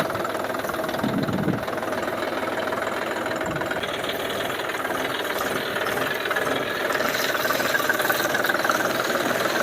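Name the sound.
tractor driving over chickpea crop to thresh it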